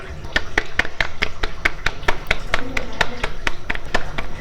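Rapid, rhythmic slapping of hands patting roti dough, about four pats per second, close and steady throughout with a faint background hum.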